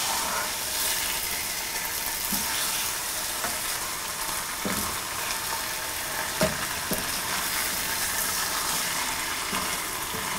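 Pork chops fry in a pan and are stirred from time to time. A constant broadband sizzle continues throughout, with a handful of quiet spoon knocks spaced through it.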